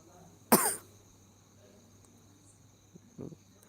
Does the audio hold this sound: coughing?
yes